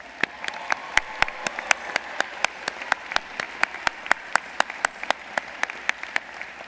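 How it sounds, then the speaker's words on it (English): Steady rhythmic clapping at a college commencement ceremony, sharp evenly spaced claps at a brisk pace over a soft background murmur of more applause. "please give yourselves a huge round of applause."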